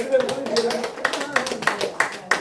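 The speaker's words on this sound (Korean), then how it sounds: "박수 쳐요." Audience at a lecture clapping in short, irregular bursts, moderately near, with a voice carrying over the applause.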